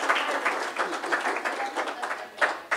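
An audience claps for a volunteer at a symposium stage demonstration, a short burst of fairly close, uneven applause with a few louder individual claps standing out near the end.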